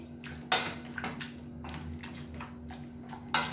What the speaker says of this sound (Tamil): இந்த மாதிரி மேஷர் வச்சு நல்லா மசிச்சு விட்டுக்கோங்க.